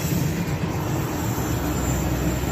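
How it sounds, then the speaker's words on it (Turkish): A steady, broad low rumble with constant rushing noise, like a train rolling past close by, continuous without pauses. "Tren de hemen yanımızdan geçiyor."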